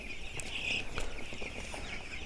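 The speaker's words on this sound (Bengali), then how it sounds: "দেখতে পাচ্ছেন যে মুরগি এখানে পানি খাচ্ছে," Broiler chickens on a poultry farm cluck in a steady overlapping chorus, several birds calling close by over a continuous background hum of the shed.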